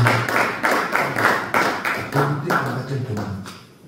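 A church congregation claps together in a steady rhythmic beat, the loud, even claps repeating roughly twice per second and gradually fading, with voices talking underneath.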